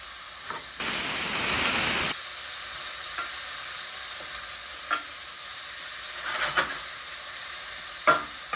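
Garlic and leafy greens sweating in a pan with salt, giving a soft steady sizzle, with a louder burst of stirring early on and a few scattered scrapes and clinks.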